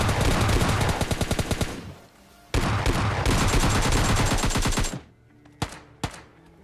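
Rapid bursts of S12 shotgun fire in a video game, loud and close, rattling in two long volleys separated by a brief gap, followed by a couple of isolated sharp shots.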